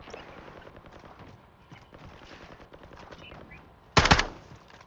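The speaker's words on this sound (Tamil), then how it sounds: "யாரோ அடிச்சான? எங்க இருந்து அடிச்சான்?" A sudden loud gunshot from a sniper in Call of Duty Warzone, one sharp crack standing out over a background of low in-game rumble and footsteps.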